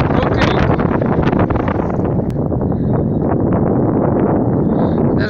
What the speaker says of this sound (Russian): Ветер опять поднимается.